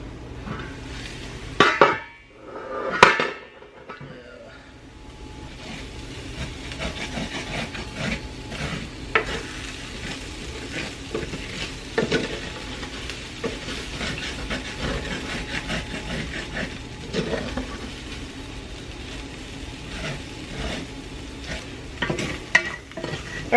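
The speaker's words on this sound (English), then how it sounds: "we're just gonna let that sit and cook for just a few minutes. Just give it a stir here and there" Food frying in a pan is stirred now and then, with soft sizzling and occasional scraping and clinks of a utensil against the pan, fairly close and steady with no talk.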